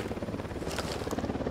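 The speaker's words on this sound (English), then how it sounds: "Chopper, stay low." Helicopter rotor thrum from the video game Ghost Recon Wildlands, a steady, fairly close chopping drone that holds throughout with only faint hints of voice.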